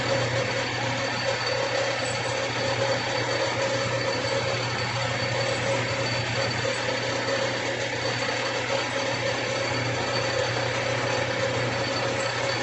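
A metal lathe drills into a steel bung, giving off a constant, dense mechanical whir and grinding hum at a steady level with no breaks.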